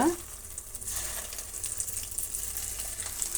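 Rice bonda batter dropped into hot oil, a steady bright crackling sizzle close by that swells slightly as the frying continues, with no talk over it.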